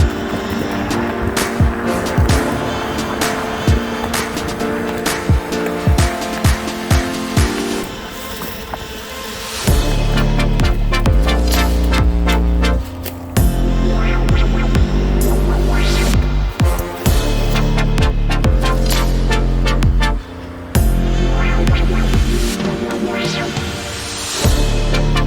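A mountain bike ridden along the Alum Creek Phase 1 trail, with loud, continuous wind buffeting and low rumbling tire noise, broken by rattles and clunks from the rough ground, and a brief lull near the middle.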